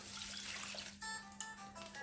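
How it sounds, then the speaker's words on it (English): Hot water is poured into couscous in a kitchen, a faint, steady splashing trickle with light clinks, heard alone with no talking. "And then I'm going to add my 1 1/4 cups of hot water"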